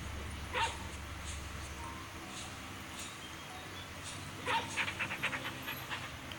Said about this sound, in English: Come on, doggy.